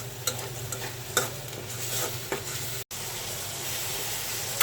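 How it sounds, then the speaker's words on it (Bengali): Spices with cumin powder and garam masala are fried and stirred in a pan, giving a close, continuous sizzle broken by several sharp scraping strokes of the spoon. "সমস্ত মশলাটা ভালোভাবে কষিয়ে নিচ্ছি।"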